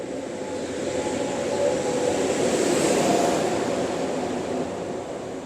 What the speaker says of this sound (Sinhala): කොරියාවේ KTS එක. ලස්සන කෝච්චියක්.